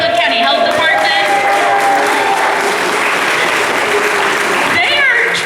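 A crowd at a healthcare debate applauds loudly for the Franklin County Health Department, with dense steady clapping, some cheering and voices mixed in, close and sustained throughout.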